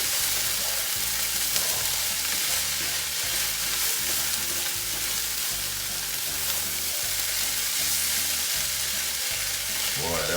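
Small sausage pieces fry loudly in a pan for a frittata, a constant close sizzle with a repeated scraping rhythm as they are stirred throughout.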